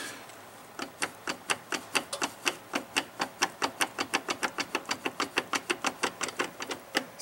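Rapid rhythmic clicking from a worn front driveshaft joint on a Chevy Blazer as the shaft is wiggled by hand, dozens of sharp, evenly spaced clacks close to the microphone.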